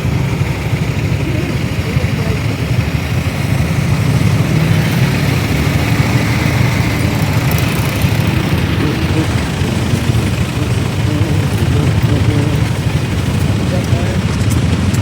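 A motorcycle engine runs steadily on a ride through the Philippines, a dense rumbling drone with wind roar that stays constant throughout, while a voice talks over it.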